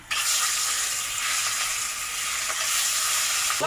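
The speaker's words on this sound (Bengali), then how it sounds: "আমার তেল গরম হয়ে গেছে আমি মাছটা দিচ্ছি" Pangas fish dropped into hot oil in a pan, a steady, loud hiss and sizzle of frying that starts abruptly and holds evenly throughout, with a faint clink near the end.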